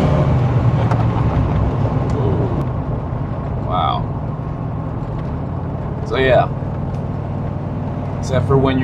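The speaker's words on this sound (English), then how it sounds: "I'm really hoping you guys can hear the turbo spool. It sounds really good." A turbocharged Chevrolet Silverado diesel pickup drones steadily, and a rising turbo whistle spools up in short bursts about three times. Someone talks over the engine throughout.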